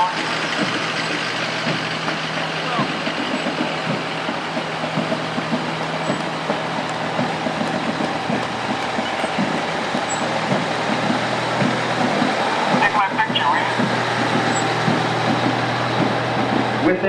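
Fire trucks rolling in a Memorial Day parade in Parsippany, including a 1995 Pierce 100-foot aerial truck and Pierce pumpers, diesel engines idling and rumbling steadily nearby while voices talk over them.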